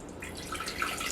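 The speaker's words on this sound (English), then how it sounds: "we're gonna put half a cup of water" Half a cup of water pours into a pot on the stove, a brief soft splashing trickle at low volume, heard alone without talk.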